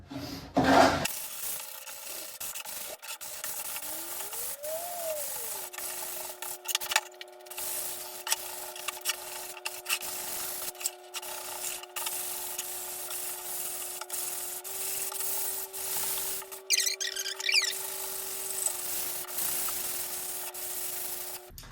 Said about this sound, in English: Now I'm gonna sand the front and then I will stain it after.